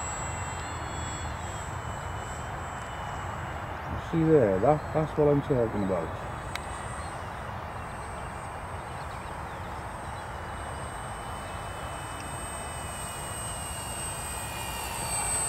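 The small engine of an E-flite M7 Maule model airplane drones continuously at open throttle with a high, steady whine, heard from a distance, while someone talks briefly over it.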